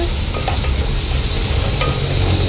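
Cluster beans fry in a pan with spices and tomatoes while a spoon stirs them through, giving a continuous loud sizzle with occasional scraping taps against the pan.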